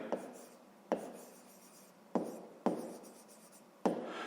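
Handwriting on paper, a close, soft scratching of pen strokes with a few sharper taps as the pen touches down, continuous and quiet.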